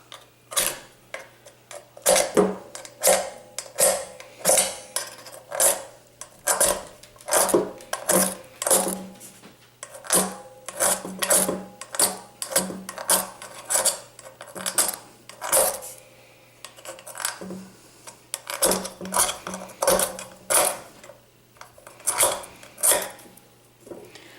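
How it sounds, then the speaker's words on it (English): Repeated scraping strikes of a fire steel inside a bowl, rendered as sharp metallic rasps and clinks arriving in irregular bursts over a faint steady hum, close up with no talking. "it is quite hard to strike inside of a bowl"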